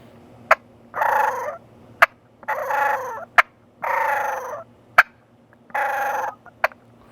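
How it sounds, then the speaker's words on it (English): A wild turkey hen calls in repeated bursts of rolling, purring clucks, about four phrases separated by sharp single clucks, fairly close and clear. "When a hen gets mad, she starts clucking and then purring a little bit louder, a little bit more aggressive."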